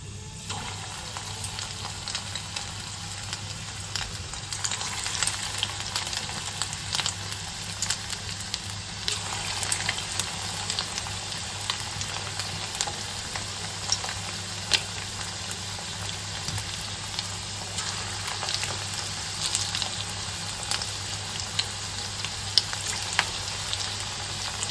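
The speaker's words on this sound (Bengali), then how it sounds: "আর হচ্ছে এখানে তেলও দিয়ে দিয়েছি, জাস্ট গরম গরম ভাজবো এবার।" Marinated chicken fries in hot oil with a continuous crackling sizzle and scattered pops, close and steady the whole time.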